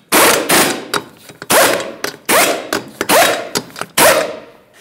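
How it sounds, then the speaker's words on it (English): A power tool runs down the 21mm lug nuts on a Nissan Altima wheel in loud, close rattling bursts, about seven of them with short pauses in between, and no talk. "Start on all 5 of your 21mm lug nuts."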